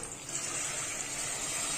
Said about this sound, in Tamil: இப்போ தண்ணி சேர்க்கலாம்